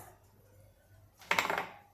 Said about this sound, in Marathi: या कढईमध्ये मी ही हांडी ठेवते.